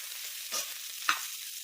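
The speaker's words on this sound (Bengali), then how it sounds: "এবার ক্যাপসিকামটাকেও একইভাবে ভেজে নেব।" Capsicum fries in hot oil in a pan with a soft, steady sizzle, broken by two quick scrapes of a spatula stirring the pieces.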